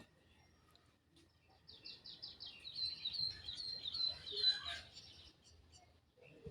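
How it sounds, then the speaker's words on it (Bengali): Small birds chirp and twitter in quick bursts outdoors near weaver bird nests, a busy run of calls in the middle that fades toward the end, fairly faint over a low background hiss. "পাখি হচ্ছে কিচিরমিচির শব্দ করতেছে"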